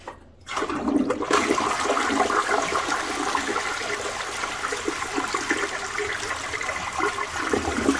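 A toilet in a bathroom flushes close by: a sudden loud rush of water that keeps gushing and swirling steadily with no talking.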